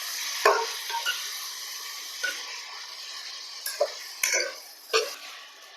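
Thinly sliced tomatoes frying in a pan for a bean and tomato curry, a soft sizzle with scattered sharp clinks and stirring knocks of a spoon against the pan, close up with no voices.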